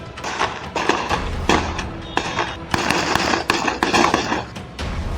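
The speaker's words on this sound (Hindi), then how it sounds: "इसी दौरान गोलीबारी होने लगी।" Gunfire in a gang shootout in Bihar, India, a string of sharp cracking shots and thuds popping irregularly at moderate volume, with no talking over it.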